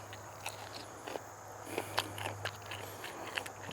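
A jalapeno pepper is bitten and chewed up close, giving several quiet crisp crunches and bites spread irregularly over a faint background hum.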